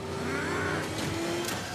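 The Batmobile from the Batman film revs its powerful engine on a Paris street, a loud rising and falling mid-pitched roar that holds steady across the whole moment with no talking.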